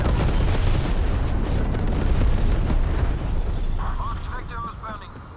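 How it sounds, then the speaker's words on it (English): Napalm strike explosions in a video game: a loud, continuous roaring rumble of blasts and fire that fills the clip, with faint radio-like voice chatter rising near the end. "Enemy napalm strike incoming."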